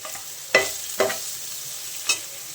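Vegetables cook in a pan for seviyan upma as spices go in, with three sharp stirring scrapes and brief sizzles standing out over a quiet background hiss.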